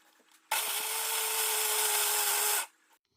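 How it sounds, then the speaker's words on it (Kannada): A kitchen mixer grinder blends red chilli and fenugreek chutney, switching on abruptly into a loud, steady high-pitched whir that holds for about two seconds before cutting off sharply. "ನೈಸಾಗಿ ರುಬ್ಕೊಳ್ಳಿ."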